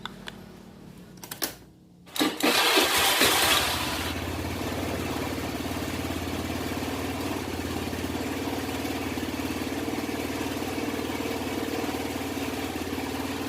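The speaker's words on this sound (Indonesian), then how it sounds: "Lalu selanjutnya kita hidupkan mesinnya." A vehicle engine cranks and fires at close range, then settles into a steady, loud idle that runs uninterrupted, with the car battery reading 12.6 volts beforehand.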